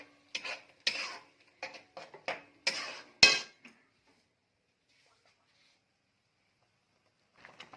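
A spatula stirs and fries a palak paneer spinach mixture in a kadai, giving a quick series of short scraping, clinking strokes, then a long quiet stretch before one faint stir at the end.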